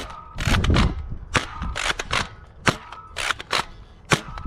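A Dart Zone Ballistix-Ops Powerball toy blaster fires rounds in a quick series of sharp, close pops and snaps, with brief rattling between shots.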